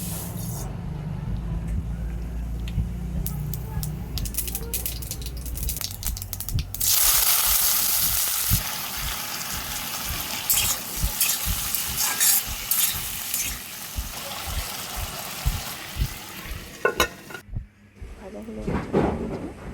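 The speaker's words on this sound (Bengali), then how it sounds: "তিতা করলা ভাজা আর কাঁকরোল ভাজা।" Slices of bitter gourd and pointed gourd fry in a pan with a steady sizzle. Repeated scraping and clattering stirs build into a quick rhythmic series in the second half, close and loud, with voices at times.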